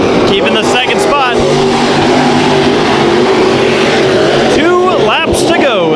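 Race cars roar loudly around Bakersfield Speedway during a heat race, a continuous dense engine drone with rising and falling pitch sweeps as cars pass close by, a race announcer talking over the noise.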